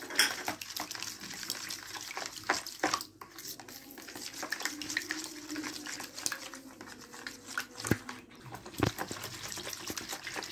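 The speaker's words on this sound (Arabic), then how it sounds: "هنقلب الخميره كويس خالص ونفكها جامد في الميه بالطريقه دي" Yeast stirred briskly into water in a bowl for pizza dough, a steady close swishing and scraping with occasional clinks of the spoon, continuous for several seconds without speech.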